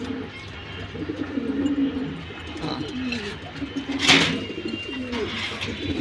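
A female Homer pigeon sitting on eggs coos softly in repeated low, rolling phrases at close range, with a brief rustling burst partway through and little talk.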